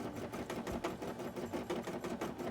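A machine stitching embroideries for cosplay wings runs with a fast, steady mechanical chugging rhythm, close and fairly quiet, with no talk.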